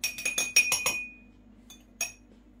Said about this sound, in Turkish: 1 yemek kaşığı karbonat kullanacağım. Şöyle bardağıma koyuyorum.